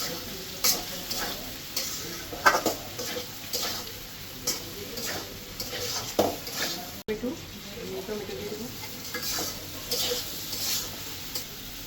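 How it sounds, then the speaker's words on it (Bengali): Spice masala with turmeric and chili powder sizzles and fries for a jatka fish curry while a spoon scrapes and stirs the pan in repeated close strokes, with a voice talking at times over the steady hiss. "তো খুব ভালোভাবে কষানো হয়ে গেছে"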